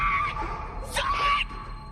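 Brief, harsh screams in a dim paranormal setting, two short bursts of shrill yelling, the second louder and rising, over a steady background hum, heard from a recording rather than close by.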